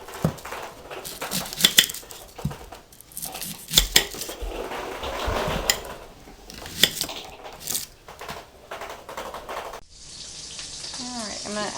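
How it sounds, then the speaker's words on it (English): A knife cuts up half an onion on a home kitchen counter, a few sharp, scattered chops mixed with pan and utensil clatter at close range. "I'm going to cut up this onion."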